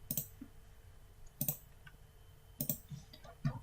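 Several separate clicks on a computer keyboard while typing a word into an Excel spreadsheet cell, landing in small spaced bursts, close and fairly quiet in a still room.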